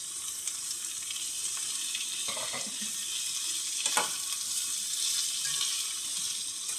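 Prawns salted and frying in a hot pan, a steady bright sizzle running continuously, with a few soft stirring clatters partway through and no voices.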